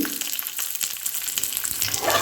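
Chana dal, urad dal, ginger, green chili, curry leaves and asafoetida frying in hot oil give a dense, continuous close sizzle with crackling, steady throughout.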